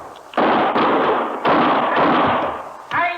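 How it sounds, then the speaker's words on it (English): Gunshots ring out in a Gunsmoke radio drama, three loud, close blasts spaced about a second apart, each with a long decaying roar, followed by a sharp fourth report at the end. "Start shooting, Chester."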